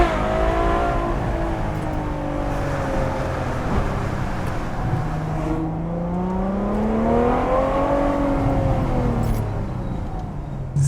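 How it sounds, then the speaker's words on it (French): A Ferrari 812 Superfast with an 800-horsepower V12 revs and pulls hard, its engine note rising and falling in long sweeping swells over steady road rumble, loud and close with no talk. "Je pense que c'est l'un des plus beaux bruits moteurs que je connaisse."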